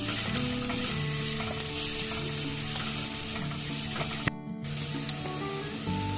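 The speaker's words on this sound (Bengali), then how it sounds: "পেঁয়াজ রসুনটা আমি 2 থেকে 3 মিনিট ভাজা করে নেব।" Chopped onion and garlic frying in a pan for paneer kalimirch, a close, steady sizzle with crackling bits and a brief stir or clatter near the end, no voices over it.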